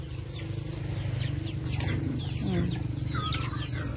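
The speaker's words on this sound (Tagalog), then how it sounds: "Yung mga manok niya." Chickens cluck and chatter in a busy chorus on a rural farm over a steady low rumble, with scattered short calls coming from several birds at once.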